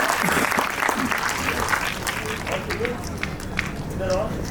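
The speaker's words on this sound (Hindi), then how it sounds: "एक बार जोरदार तालियां होनी चाहिए आप लोगों के लिए" Loud, sustained applause from a live audience at a spoken talk, with dense continuous clapping filling the whole stretch, steady in level and close to the listener.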